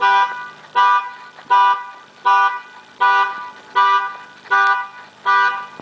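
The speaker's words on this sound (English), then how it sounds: "that car alarm went off as soon as I walked by the car" A parked car's alarm going off on a street in the evening, blaring a loud, close, repeating electronic tone in eight regular pulses with no talk.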